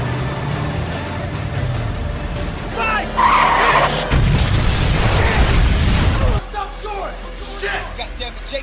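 Explosive blast and rumbling burst during a cash-transport truck robbery, a loud broadband roar lasting a few seconds amid tire and engine noise, then settling into background rumble.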